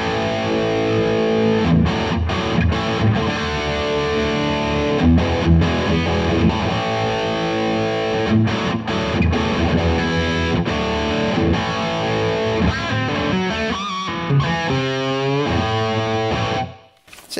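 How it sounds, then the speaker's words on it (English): An electric guitar plays a steady rock riff through the dirty distortion channel of a Blackstar tube amplifier with all tone controls set flat. The thick, sustained crunch stays loud and continuous, with no voices. "I'm just plugged into a tube Blackstar amplifier, and we're in the dirty channel."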